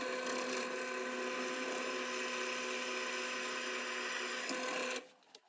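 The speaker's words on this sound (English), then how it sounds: "I'm going to drill a 1/4 inch or so pilot hole before I drill the larger" A drill press hums and grinds steadily for about five seconds as it bores a 1/2-inch hole, then spins down abruptly into near silence.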